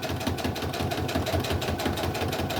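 Sewing machine stitching rows of a crumb crazy quilt together, a fast, steady, rhythmic mechanical chatter running continuously up close with no talking.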